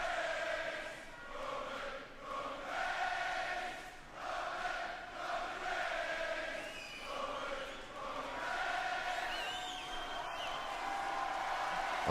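A wrestling arena crowd cheers Roman Reigns at a WWE Raw show in Paris, a faint, distant roar that swells and chants rhythmically, with no voices up close.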